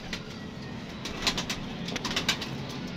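A fulsara pigeon settling after a long flight, soft low cooing with a few faint wing flutters, close and fairly quiet over outdoor background noise, no talking.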